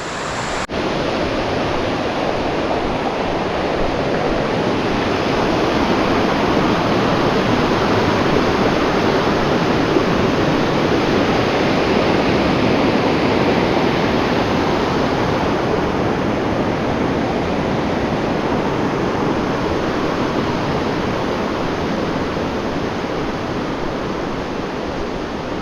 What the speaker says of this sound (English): It's actually Miners Creek going into the Seattle River.